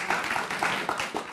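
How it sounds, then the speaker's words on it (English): An audience at a Sunday feast lecture gives a short burst of scattered clapping from many hands in a hall. It is fairly loud and brief, with no voices over it. "Are you applauding that he got in trouble"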